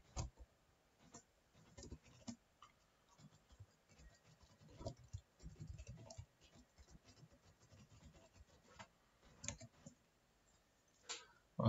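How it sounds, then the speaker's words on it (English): Keyboard typing while writing Android Jetpack Compose code, quiet irregular bursts of clicking keys continuing throughout, fairly close but soft. "There will be a lot of typing"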